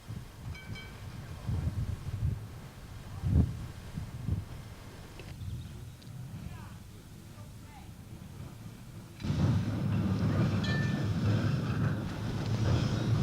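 A Blackpool Standard tram runs past with a low rumbling roll that grows louder near the end, building to a steady, close rumble.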